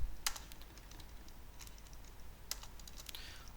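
Code is typed on a computer keyboard in a soft, quiet patter of scattered key clicks, with a few louder taps standing out over a low room hum and no talk.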